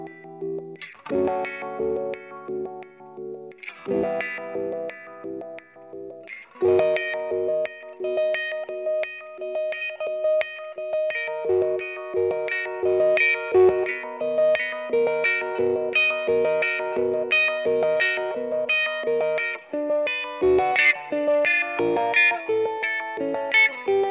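Electric guitar run through a pedalboard with a Seeker effect: rhythmic chords chopped into pulsing, stuttering bursts, with distortion and chorus shimmer and phrases shifting every few seconds, played alone.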